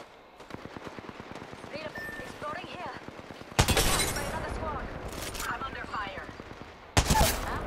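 Gunfire in a video game includes rapid rattling bursts and two sharp, loud shots from a Kraber, heard under game voice lines and chatter.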